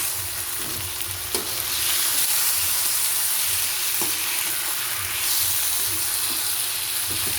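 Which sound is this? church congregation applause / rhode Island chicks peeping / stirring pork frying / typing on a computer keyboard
stirring pork frying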